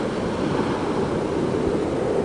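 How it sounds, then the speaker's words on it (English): Ocean surf rolls in as a steady, broad wash of breaking waves on the shore, continuous and fairly loud with a faint wind rumble, no voices. "There's such a big ocean, we are in front."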